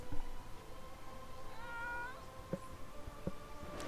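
A cat meowing indoors, a drawn-out wavering meow in the middle followed by a couple of short chirps, fairly faint against quiet room noise.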